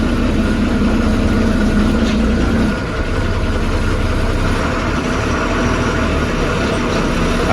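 A Tata bus engine running on the road from Trivandrum, a steady low diesel drone heard from inside, constant and moderately loud with no talk.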